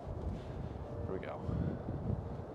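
Steady gusty wind roars across an open winter golf course, a low broadband rumble that swells and fades, with people talking close by throughout.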